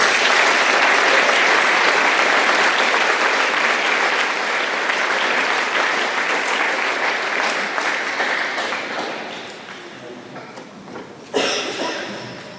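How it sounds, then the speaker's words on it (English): At a Marion School graduation ceremony, an audience applauds honor students, a loud, dense crowd clapping that slowly fades, with a brief stray bump near the end. "Let's give them a round of applause."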